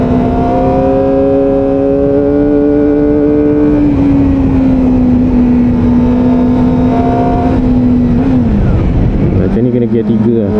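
Kawasaki Ninja ZX-25R SE two-cylinder motorcycle climbing a hill road toward Genting in Malaysia, engine holding a steady loud high-revving whine that dips and shifts near the end, with wind rush throughout.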